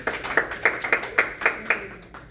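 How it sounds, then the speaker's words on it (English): A few people clapping for a volunteer at a balance workshop, roughly a dozen distinct, fairly close claps in an uneven rhythm that thin out and stop after about two seconds. "Let's do a round of applause here."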